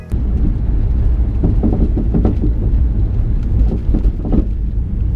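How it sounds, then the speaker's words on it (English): Repeated dull clunks and knocks from a car's worn rear-left sway bar end link over bumps, irregular and close, riding over a constant low road rumble. "my sway bar end link makes it sound like this"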